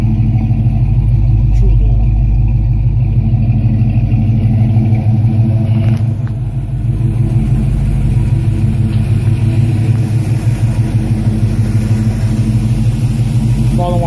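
A car engine idles with a deep, steady exhaust rumble, loud and close, holding a low throb throughout with slight swells in revs.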